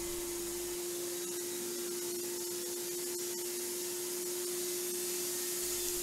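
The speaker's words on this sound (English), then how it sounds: "Then it's just to go back and forward with the mill." A Woodmizer LT15 sawmill cutting a log into boards on a homestead in Orust, Sweden, heard as a constant loud mechanical whine and broad hiss of the band saw running steadily throughout.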